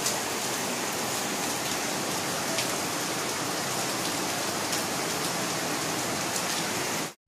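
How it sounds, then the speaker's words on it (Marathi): Heavy rain pouring steadily, a dense, even hiss of falling water that stays loud and unbroken throughout before cutting off at the end. "तर जायचं म्हटलं तर एवढा पाऊस येत आहे"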